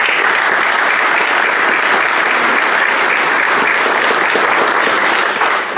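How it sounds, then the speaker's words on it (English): Loud, dense applause from a stadium audience at a college baseball championship ring ceremony, holding steady and continuous for several seconds with no talking. "please a round of applause from us."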